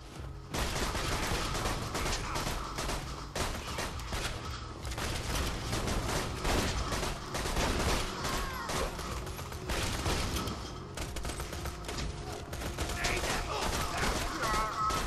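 Dense, continuous gunfire from the video game Borderlands 2, loud and close, with rapid bursts and mechanical clatter running almost without pause.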